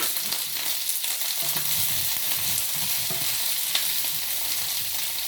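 Food fries and sizzles steadily in a pan, a dense, close crackling hiss that runs the whole time with light stirring and scraping underneath, steam adding to the noise.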